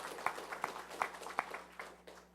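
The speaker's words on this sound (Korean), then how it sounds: "하나님께 영광의 박수 올리겠습니다" A church congregation at a Sunday worship service claps together in a steady, even rhythm, about three beats per second. The claps are fairly faint and soften toward the end.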